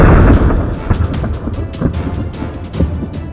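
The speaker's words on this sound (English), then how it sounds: "Then I'm going to take a shot." A semi-automatic handgun fires a single loud shot at close range with a sharp boom at the start, followed by decaying echo and clattering noise.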